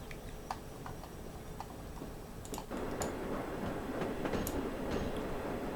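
Train on the Severn Valley Railway in Train Simulator, wheels ticking over rail joints in irregular clicks over a low rolling rumble that grows louder midway, heard alone.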